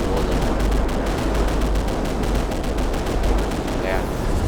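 Gunfire in the video game Grand Theft Auto V: loud, continuous crackling shots and bursts over a dense rumble, running steadily throughout with little pause.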